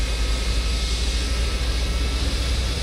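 A Boeing 727 flight deck in Microsoft Flight Simulator, windows open, fills with a loud, steady roar of wind and engine noise that never lets up.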